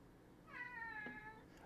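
A pet cat named Cinnamon gives a single drawn-out meow, close and clear, with a brief rising tail near the end against a quiet room.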